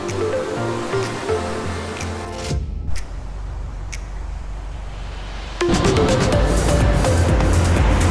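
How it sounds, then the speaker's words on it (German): Roaring surf of ocean waves breaking on a Sri Lankan surfing beach, steady and loud throughout, with a brief lull midway before the crash surges back up. "Geht ganz schön ab, ganz schön viele Wellen."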